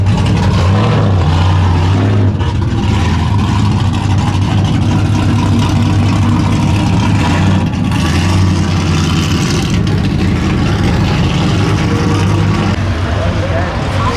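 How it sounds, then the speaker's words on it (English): An old school Chevy truck at a Texas car show, its engine rumbling loud and steady with deep low idle and revving swells, continuous over crowd background noise. "we got a pretty sweet old school Chevy truck rolling on it, sounding absolutely insane"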